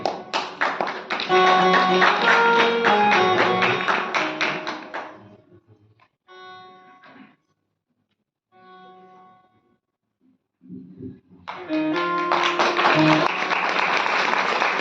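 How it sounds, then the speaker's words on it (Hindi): An audience at a Shrimad Bhagavat Katha religious discourse breaks into loud, dense clapping mixed with music, fades to near silence in the middle, then erupts into a second burst of applause. "इनको भी जोरदार तालियां"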